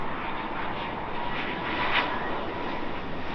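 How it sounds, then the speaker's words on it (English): A British Airways Boeing 777-200 arriving at Heathrow from Delhi, a brief, steady jet roar heard nearby with a slight swell partway through, alone without talk. "British Airways Boeing 777-200 from Delhi in its Great Festival of Creativity livery."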